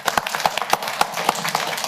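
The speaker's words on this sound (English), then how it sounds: "let's have a round of applause for them" Steady, evenly spaced hand claps at a county council meeting, loud and close, in a brisk regular rhythm.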